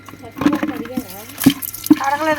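Prawns are washed clean by hand in water, with splashing, sloshing and dripping in short bursts, close by, while a voice talks over it.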